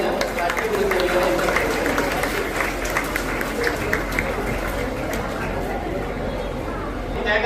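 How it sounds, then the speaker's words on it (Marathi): An audience at an award ceremony for a Buddhist vihara cleanliness contest in Nagpur claps steadily, a dense, even wash of applause heard at fairly close range, with a voice and crowd chatter underneath. "टाळ्या होऊन जाऊ द्या."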